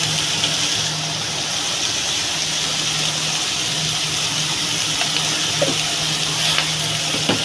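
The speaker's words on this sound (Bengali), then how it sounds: "পাতাটা আর চিংড়ি মাছটা একসঙ্গেই ভাজা হয়ে যাবে" A steady, even sizzle of shrimp and bottle gourd leaves frying in a pan, continuous and close for the whole stretch, with no talking.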